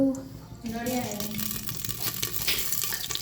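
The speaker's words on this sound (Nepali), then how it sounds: "यसो मेथी पनि हालौँ। मेथी पड्काउनु पर्यो।" Oil sizzles steadily in a pan as fenugreek seeds fry and pop, a continuous crackling hiss, while a voice speaks briefly at the start.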